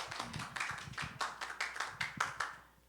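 A church congregation claps to welcome returning missionaries, a loose group of hands striking in a fairly regular, slightly ragged rhythm, about a dozen distinct beats that fade out near the end.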